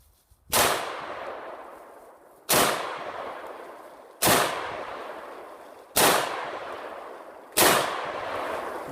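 Five loud, sharp gunshots from an AR-15 pistol upper fired semi-automatic, spaced roughly every one and a half to two seconds, each with a ringing outdoor decay.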